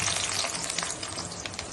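Onion hits about half a cup of hot wood-pressed peanut oil in a kadhai, giving a dense, loud, steady sizzle with fine crackling throughout, close and without speech.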